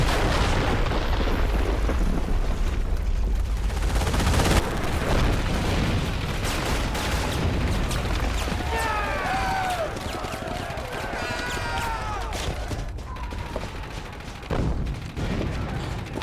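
Battlefield combat in the World War II strategy game Company of Heroes as engineers blow the wire: heavy explosions and booming rumble with scattered gunfire, loud and continuous, with soldiers' voices shouting over it.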